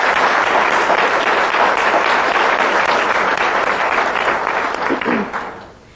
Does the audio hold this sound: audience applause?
yes